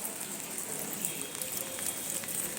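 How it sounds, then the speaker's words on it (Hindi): Heavy rain pours steadily in Dehradun, a dense, hissing wash of drops hitting surfaces with scattered sharper splashes. Close and continuous, with no voices. "यार इतनी बारिश हो रखी है"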